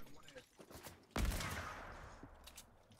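Gunfire in a creative-mode shooter game: a single sharp close shot fires and then a long booming tail and echo fade away, with faint background game sounds before it.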